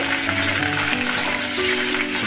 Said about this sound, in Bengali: মাছগুলো আমার বেশ লাল লাল করে ভাজা হয়ে গেছে